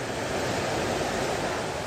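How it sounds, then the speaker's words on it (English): The Crammel Linn waterfall at Gilsland makes a constant, loud rushing roar of falling water, steady and unbroken, heard from close by with no voices. "So just making our way down to the foot of the waterfall."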